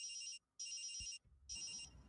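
An electronic phone ringtone plays during a tabletop game session, three bright warbling bursts with short gaps between them, fairly quiet, with faint background rustle and low noise near the end.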